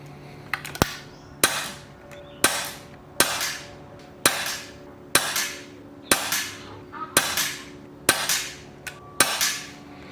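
Air rifle firing pellets through a chronograph: ten sharp, evenly spaced shots about one second apart, each a loud crack with a short ringing decay, over a quiet steady background hum.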